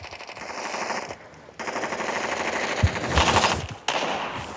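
Rapid machine gun fire rattles in sustained bursts with brief pauses in the shooter video game Special Forces Group 3; there is no speech.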